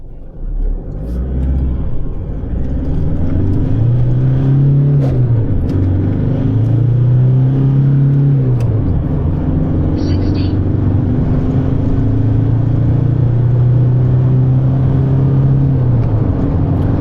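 A stock Isuzu D-Max pickup accelerating hard along a road, heard from inside as a loud engine drone that climbs in pitch through the gears with short drops at each shift.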